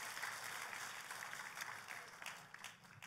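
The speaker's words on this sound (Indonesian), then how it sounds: "Tepuk tangannya yang paling meriah buat Tuhan kita." A faint, steady wash of applause from a church congregation, distant and even, lasting a few seconds.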